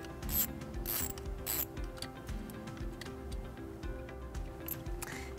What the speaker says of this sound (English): I'm gonna use a 12 millimeter socket to get that nut off the battery post